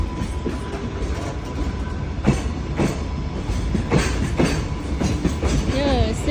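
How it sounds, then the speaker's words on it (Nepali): A long freight train passes in Japan, carrying cylinders, with loud steady rumbling and rhythmic clickety-clack of wheels over rail joints, a faint wheel squeal and brief voices near the end. "यो सामान बोक्ने ट्रेन हो कि कति लामो छ"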